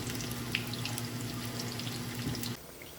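Kadhi pakodi batter frying in hot oil, a faint continuous bubbling sizzle with a steady low hum underneath, dropping quieter near the end.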